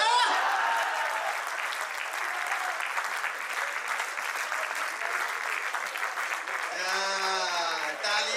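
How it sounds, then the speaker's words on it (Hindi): Audience applause at a Hindi comedy poetry show (hasya kavi sammelan), a steady, dense clapping from a large crowd that runs the whole time, with a voice breaking through near the end. "ताली तो पूरा सदन इस बात का बजाएगा"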